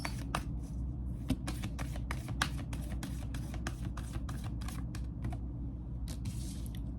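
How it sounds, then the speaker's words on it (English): Tarot cards being shuffled by hand, a steady run of crisp riffling clicks and flutters over a constant low background hum, close and moderately loud, with no talking. "Let me pull a few cards from this."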